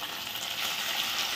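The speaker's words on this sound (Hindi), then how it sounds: "लगभग हमें आलू को 1 से 2 मिनट तक भूनना है अच्छी तरीके से" Potatoes sauté in a pan with chaat masala, a continuous bright sizzling hiss of frying, close and steady for a brief moment.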